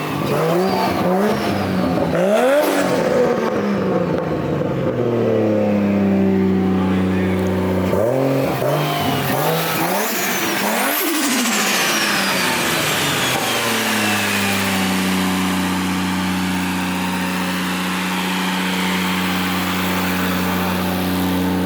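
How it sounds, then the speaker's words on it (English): Nissan S13 with a swapped 1JZ engine revving hard and close: repeated rising and falling throttle blips, then a long sustained high-rev hold with strong harmonic drone, loud throughout. "Give it a little rev from the back."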